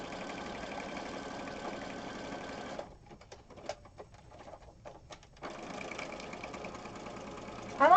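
A sewing machine stitches a fabric cover for a junk journal with a steady mechanical whir. The hum thins out midway and then returns at full speed.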